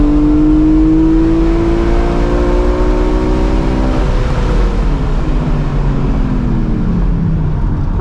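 A track-prepped 2005 BMW M3 E46 Competition with a 6-speed SMG gearbox, its engine loud and close, rising in pitch then dropping after a shift and pulling again on a race track.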